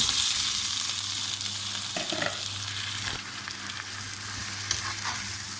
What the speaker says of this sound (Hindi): चिकन को भी हम निकालने के बगैर 5 से 10 मिनट फ्राई करेंगे।